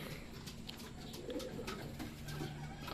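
Racing pigeons coo softly at a loft during a 138 km training race in Pagbilao, Quezon, low murmuring calls faint under a steady wash of outdoor background noise.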